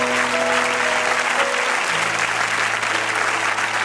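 A church congregation applauding together, a steady dense wash of clapping from a crowd that holds evenly for a few seconds without a pause.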